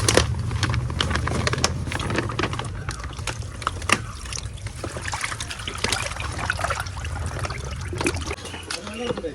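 Water trickling and pouring as it is drained off farmed fish, a continuous splashing dribble with scattered drips and low rumble underneath, close by, with people talking over it.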